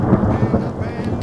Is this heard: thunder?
yes